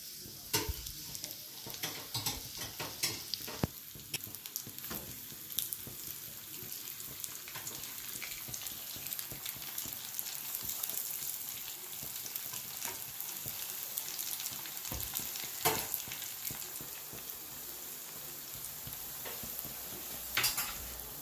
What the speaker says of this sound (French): On passe à la friture.